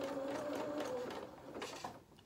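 A sewing machine stitches fabric for a small toy jacket, a close, quiet whirring hum in short bursts that pause and restart as the material is bunched and guided, with no talk over it.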